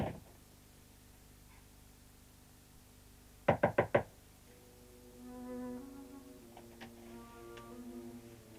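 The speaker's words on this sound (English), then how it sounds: "don't come out until I knock" Four quick knocks on a door, close and sharp in a fast even run, standing out against a quiet room tone, with soft faint sounds following afterward.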